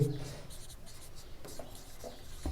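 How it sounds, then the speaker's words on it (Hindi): Pen scratching on paper while working a geometry formula in a Class X maths lesson, soft continuous scribbling strokes close by with faint bits of a voice underneath. "हम यहाँ लिखेंगे"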